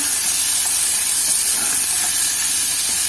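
Boneless chicken pieces coated in ginger-garlic paste fry on a high flame, giving a steady, loud hiss and sizzle with no breaks, close and alone.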